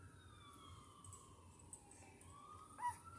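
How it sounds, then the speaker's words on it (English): Emergency vehicle sirens wail outdoors, faint and distant, with sliding tones rising and falling over a quiet background. "Sirens."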